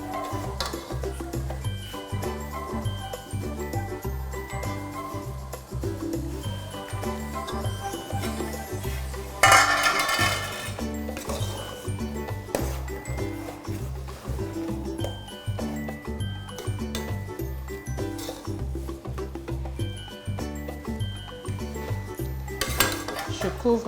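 A spoon stirs étodjè in a pot, with repeated metallic clinks and scrapes over a steady low background and a couple of louder knocks. A voice speaks faintly in places.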